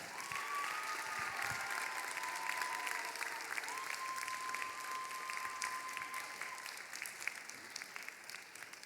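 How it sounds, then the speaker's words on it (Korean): A church youth-service congregation applauds a couple about to marry, sustained even clapping from a large room that goes on at moderate distance with no pause. "우리 축하의 박수로 맞이해 주시기 바랍니다"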